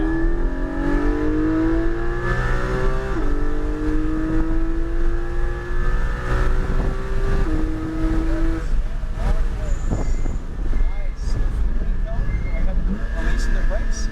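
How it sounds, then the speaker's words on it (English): A sports car engine screams at full throttle on a race track, its pitch climbing through several gear shifts, with wind roar and voices underneath. "now go ahead and accelerate full throttle."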